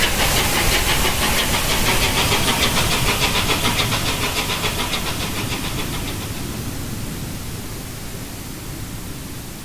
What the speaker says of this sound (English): Leaving Groombridge on the afternoon train to Tunbridge Wells West is number 850 Lord Nelson, seen here passing through the stunning Kent countryside.